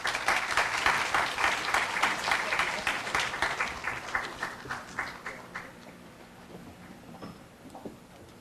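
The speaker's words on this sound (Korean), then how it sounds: "큰 박수 부탁드립니다" An indoor audience at a university orientation ceremony claps heavily, the dense applause rising quickly, then thinning and fading over several seconds into a quiet hall.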